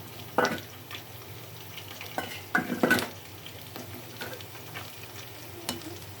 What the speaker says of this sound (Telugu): ఇది కొంచెం అలా అలా తిప్పేసి పచ్చివాసన పోయా పక్కన పెట్టాలి